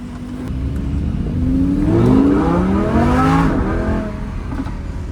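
Lamborghini engine revving close by, climbing sharply in pitch to a loud peak and then dropping away over a few seconds, heard alone with no talking.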